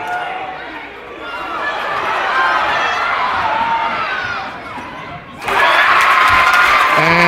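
Crowd noise at a varsity high school basketball game, steady cheering and chatter in a gym that swells, dips and then surges sharply louder, with shouts and talking mixed in.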